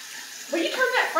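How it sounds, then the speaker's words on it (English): Water pours into a hot skillet on a stovetop, a brief rising hiss and gush that starts halfway through and sizzles on loudly to the end, close by. "I'm gonna put a little water in that skillet."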